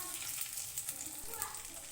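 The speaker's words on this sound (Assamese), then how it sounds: "মাছকেইডোখৰ প্ৰায় ভজা হৈ গৈছে" Fish pieces fry in hot oil in a pan, giving a brief, soft, steady sizzle heard up close.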